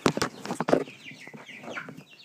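About five Rhode Island Red hens in a hen house, a burst of close clucks and squawks at the start, then softer scattered clucking and rustling.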